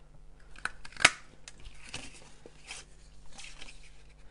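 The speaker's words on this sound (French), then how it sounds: "on va venir découper sur les 4 côtés avec cette perforatrice" A small craft paper punch cutting card for a surprise cube box: a few quiet, close clicks and snips, one sharper crunch standing out among them.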